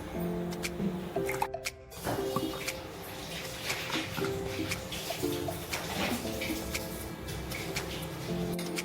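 Thick Punjabi lassi is poured into a serving glass, giving close wet glugs, drips and soft squishy splashes that run continuously with small pauses.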